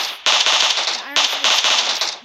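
Rapid bursts of automatic gunfire from a PUBG weapon crackle loudly and close, in two long strings of quick sharp shots separated by a short break.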